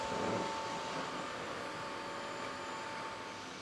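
A Dyson 360 Vis Nav robot vacuum motors back onto its charging base, giving off a steady, fairly loud broadband whir and hum that holds constant with a faint tonal whine, and no voices.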